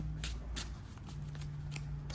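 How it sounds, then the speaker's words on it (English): Trading cards from a Maliss deck are shuffled by hand in a steady riffle, with repeated short crisp bursts of card flicks, close and fairly quiet, with no talking. "So I'm going to finish up shuffling the deck."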